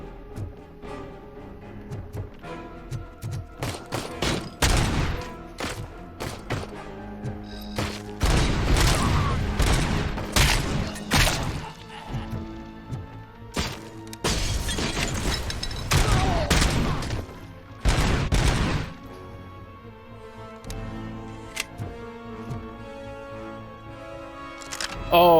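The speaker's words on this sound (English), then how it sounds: "Heavy machine gun" Heavy machine gun fire in a video game comes in dense, loud bursts of rapid shots separated by short pauses, with booming impacts layered over game sound.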